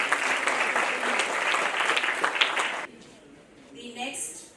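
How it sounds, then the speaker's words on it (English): An audience applauds a panelist at a panel discussion on being a doctor, a full burst of clapping from a crowd that stops abruptly, followed by a quieter moment. "Please give a round of applause"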